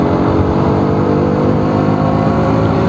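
A KTM Duke 125 BS6 motorcycle engine runs steadily and loud at close range, a continuous dense rumble holding the same pitch throughout with no pauses and no voices.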